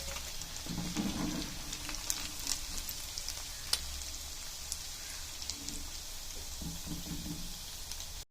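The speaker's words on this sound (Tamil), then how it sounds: "இட்லி பொரிச்சு எடுத்தாச்சு" Idli pieces deep-frying in hot oil, a steady crackling sizzle with scattered pops running throughout, fairly close and continuous, no talk.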